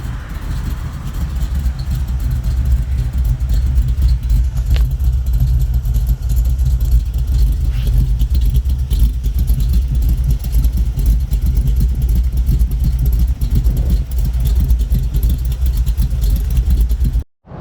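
A 1959 Chevy with its exhaust cut off and a noticeable cam rumbles loudly and steadily while driving down the road, a deep continuous engine roar that holds throughout and stops abruptly at the end.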